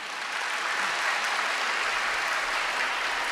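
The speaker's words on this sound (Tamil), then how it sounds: "உங்கள் கைத்தட்டலை தவிர வேறு எதுவுமே எங்களுக்கு தேவையில்லை." An audience at Bharathi Baskar's motivational speech applauds, a dense, sustained wash of many hands clapping at steady loudness from start to end, with no speech over it.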